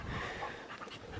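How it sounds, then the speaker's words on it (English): Spaniels pant rapidly and steadily close by on an outdoor walk in the Brecon Beacons, a soft continuous breathy rhythm with no talk. "Lovely dogs though. Spaniels, to me, are the best dogs you can have"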